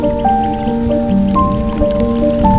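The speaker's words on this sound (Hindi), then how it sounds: "और बारिश यहाँ पे हो रही है।" Steady rain patters on a surface nearby along a jungle cycling track at Shakarparian, Islamabad, joined by a sustained tonal hum throughout.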